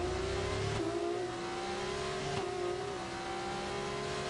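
Race car engine howls at high revs, then drops pitch sharply as the driver downshifts into fifth gear, a second step down following a moment later, loud and continuous with no voices.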